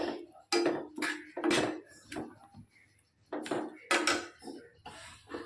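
A spoon stirs chicken gravy in a pan with tomato, green chili and a fried bay leaf, giving repeated close clinks and scrapes of metal against the pan in an uneven rhythm, with no talk.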